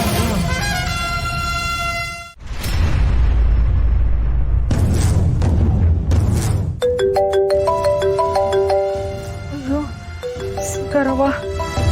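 A mobile phone ringtone plays in a Kannada TV serial scene, a melodic electronic tune of repeating bright tones entering after loud booming sound effects and continuing steadily near the close.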